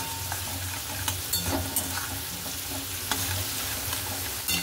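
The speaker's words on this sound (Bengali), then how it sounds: "আলুটা এই যে ভাজা হচ্ছে তার মধ্যেই দিয়ে দেবো যে রসুন গ্রেট করা" Potatoes fry in a pan with grated garlic added, giving a steady close sizzle with scraping stir strokes and occasional clatters of a spatula against the pan.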